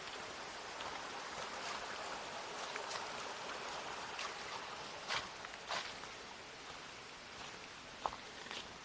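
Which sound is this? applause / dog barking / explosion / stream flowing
stream flowing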